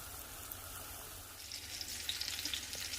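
Breaded chicken cutlets fry in a pan with a steady, moderate sizzle that thickens and crackles more brightly midway, with no voices.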